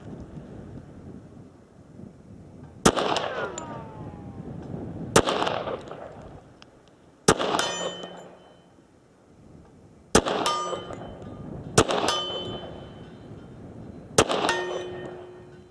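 Six sharp shots from a Wilson Combat Classic .45 ACP stainless steel 1911 pistol ring off a steel target 53 yards away, each crack followed by a bright metallic clang that decays, spaced a few seconds apart outdoors.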